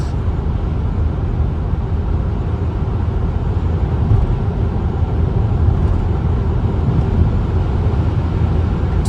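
A 2015 Ford Tourneo Connect Maxi cruising near 150 km/h on an autobahn at around 2,500 rpm, a steady, loud low engine drone mixed with road and wind noise inside the cabin, with no talk.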